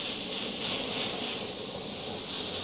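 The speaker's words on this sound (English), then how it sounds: "I'm just going to keep my airbrush angled straight on the surface" An airbrush sprays paint at about 25 psi onto a surface for a torn-metal effect, giving a steady, close, airy hiss that holds unbroken throughout with no talking.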